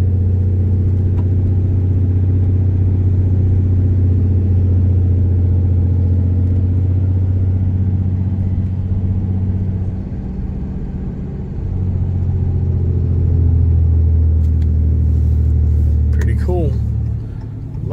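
Ram pickup truck towing a trailer, its engine and exhaust giving a steady low rumble that dips briefly and then swells again as the truck cruises, with someone talking over it.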